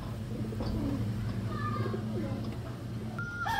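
A pigeon coos in a loft, low repeated throaty calls that run steadily under someone talking nearby.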